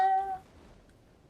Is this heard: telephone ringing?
no